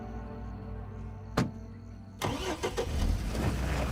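A pickup truck's engine cranks and catches outdoors in a driveway, settling into a steady mid-pitched idle before revving as it pulls away, loud and close with no talking.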